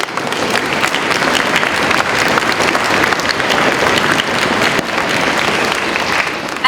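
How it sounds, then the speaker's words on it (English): A middle school audience applauds an all-county student orchestra, dense and loud clapping sustained evenly throughout without pause. "Can we give them a huge round of applause?"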